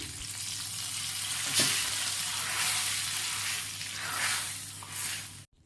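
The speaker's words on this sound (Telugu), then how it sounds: "దీనికి కూడా పోపు పెట్టేసుకుంటున్నాను" Loud, continuous sizzling of hot oil, a dense crackling hiss that swells and fades slightly before cutting off abruptly at the end.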